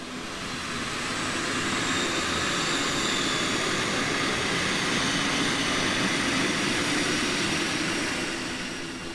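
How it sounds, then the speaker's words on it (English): A passenger plane arriving from Medellin in Colombia, its engines a sustained broadband roar that swells up and holds loud across the whole stretch, with no voices. "The incoming flight arrives from Medellin 40 minutes late."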